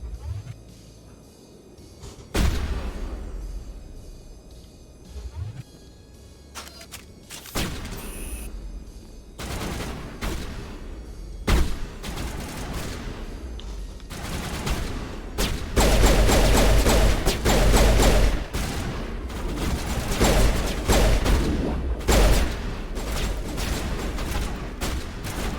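Assault rifle gunfire in the video game Mass Effect Legendary Edition, with loud repeated bursts and shots that grow denser and louder in the second half over a rumbling combat background.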